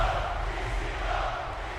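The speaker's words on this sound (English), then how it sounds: "You got the chants coming in from the crowd." Arena crowd in the WWE 2K24 wrestling video game chanting and roaring, a steady, fairly loud wash of voices with no clear individual words.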